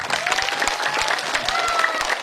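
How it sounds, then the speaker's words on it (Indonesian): Audience at a humorous religious sermon applauds for the youth, a brisk continuous patter of clapping from a gathered crowd, fairly loud and without talk. "Tepuk tangan untuk pemuda."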